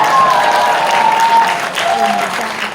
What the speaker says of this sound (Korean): 뜨거운 박수로 환영해 주시면 대단히 고맙겠습니다